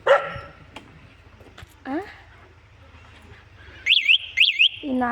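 A village dog barks and yelps in a few short, separated bursts, fairly close, against a low steady outdoor background with faint birdsong.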